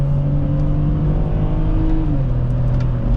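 Close inside the cabin of a 2006 BMW X3 3.0i, the engine hums steadily under acceleration while driving. Its tone holds even, then steps slightly lower partway through.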